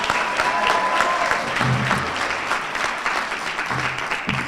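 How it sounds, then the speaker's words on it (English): Sustained, dense applause from an audience at a medical school white coat ceremony fills the room, loud and steady throughout with faint crowd murmur underneath. "There may be even more applause on this one"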